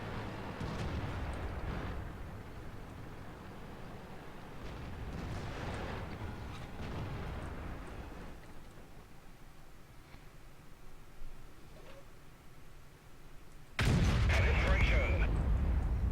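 An FV4005 Stage II tank gun fires in a tank battle video game: one sudden, loud, heavy boom near the end, after a stretch of rumbling, muffled battle noise.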